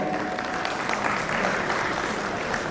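An audience at a talk show-style evening event breaks into strong applause. The clapping is a continuous dense wash from a sizable crowd for just under three seconds, with no speech over it.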